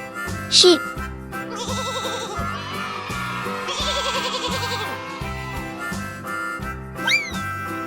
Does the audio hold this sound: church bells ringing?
no